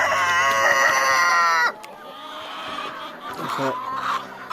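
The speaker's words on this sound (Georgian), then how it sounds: "ეს არის ქათმების კვების პროცესი." Chickens being fed food scraps, one long loud crow-like call then scattered clucks from the flock, close by.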